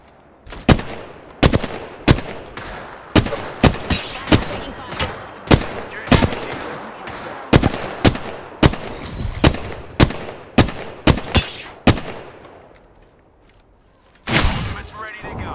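Gunfire rings out in Apex Legends, a rapid series of sharp, loud single shots in a steady rhythm for about twelve seconds, followed by a pause and one more burst.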